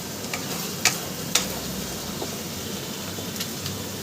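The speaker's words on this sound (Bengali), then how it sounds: "আমি সুন্দর করে সুন্দর করে কষাচ্ছি" Mutton coated in ground spice paste sautés in a pan, giving a steady background sizzle broken by a few sharp scrapes and clicks of stirring.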